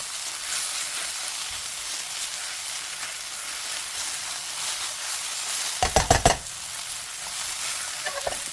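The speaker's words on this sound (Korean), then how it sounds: "이렇게 양파를 갈색이 날 정도로 이렇게 볶아주세요." Onions sizzle steadily in a frying pan while being cooked until browned, a constant bright hiss broken by a brief louder clatter of stirring near the end.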